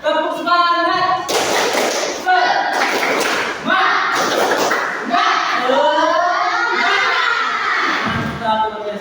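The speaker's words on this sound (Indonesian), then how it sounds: "Oke semuanya, tepuk semangat." A school class performs a rhythmic spirit clap (tepuk semangat), loud patterned bursts of clapping and thumps alternating with short pauses, mixed with voices chanting along in a classroom.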